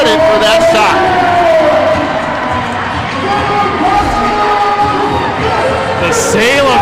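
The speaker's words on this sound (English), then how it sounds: "The Salem Armory crowd treated to a game winner" Basketball crowd at the Salem Armory roars after an overtime game winner, a loud sustained wall of cheering and shouting with sneaker squeaks and babble mixed in, steady throughout.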